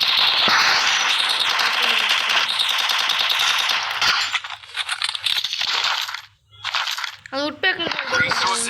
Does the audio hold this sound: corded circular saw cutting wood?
no